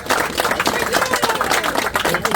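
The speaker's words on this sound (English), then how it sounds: "another round of applause for Mr. Will Walcott" An outdoor gathering at a furnace fellowship event gives a round of applause, dense scattered clapping from a crowd held steady and fairly close for a couple of seconds, with voices mixed in.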